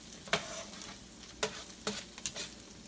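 Vegetables cook in a pan while being slowly turned, giving a soft, quiet sizzle broken by a few light knocks and scrapes of the utensil. No one speaks.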